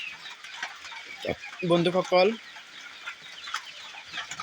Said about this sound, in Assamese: স্ক্ৰীনত যিবোৰ মুৰ্গী দেখা পাইছে এইবোৰ অৰিজিনেল লোকেল মুৰ্গী।